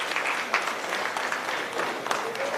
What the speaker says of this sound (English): Can we give a round of applause to our students, our graduates?